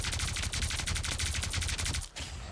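Rapid automatic gunfire from Rocket Raccoon's weapon in a hero shooter game: a dense, loud, evenly spaced burst of shots that cuts off near the end, then a brief quieter tail.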